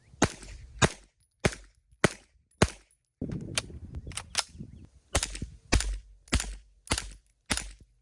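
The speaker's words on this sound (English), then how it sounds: "And a mag dump. Springfield Armory KUNA." Suppressed Springfield Armory KUNA firing a mag dump, a rapid string of sharp muffled reports at a quick uneven rhythm, with a brief clattery pause midway before the shots resume.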